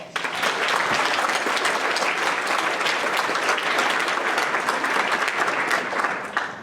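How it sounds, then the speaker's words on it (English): An audience at a school Veterans Day assembly applauds steadily and fairly loudly for the whole stretch, a dense wash of clapping with no pauses that tapers only slightly at the very end. "Let's please give them a round of applause."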